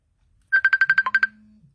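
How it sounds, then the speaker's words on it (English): An incoming phone call's ringtone plays a quick run of about nine sharp, evenly spaced electronic beeps, then a softer sustained low tone fades out, loud and alone in otherwise silent surroundings. "Sorry, is a phone call coming."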